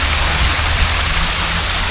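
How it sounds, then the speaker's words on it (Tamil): Water splashes continuously from a fountain structure in Abu Dhabi, a dense, loud, close rushing spray with no talking. "ஸ்ப்ளாஷிங் சவுண்ட் நல்லா இருக்குது"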